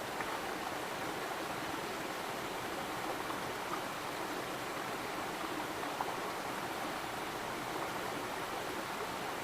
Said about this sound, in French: Toi aussi, tu bois l'eau de la rivière, Tara?